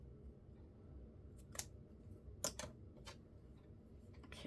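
Scissors snipping thin vintage fabric at close range, a few quick crisp cuts spaced out over a quiet background, with no talking.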